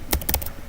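A short burst of clicks as a password is typed on a computer keyboard, several quick close keystrokes in an irregular cluster within under a second.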